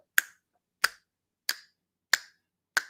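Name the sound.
finger snapping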